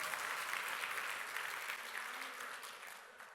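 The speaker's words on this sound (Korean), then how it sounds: "할렐루야, 박수." Church congregation applause at a worship service, a broad wash of many clapping hands that holds steady and then gradually fades, heard fairly faint and without talk over it.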